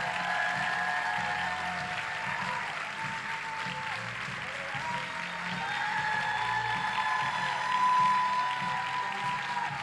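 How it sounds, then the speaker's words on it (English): A Detroit Urban Consulate audience gives a warm round of applause for two guest speakers: a steady, moderately loud crowd clapping that rises briefly near the end, with some voices murmuring in the mix. "give a big Detroit warm Urban Consulate round of applause for Dr."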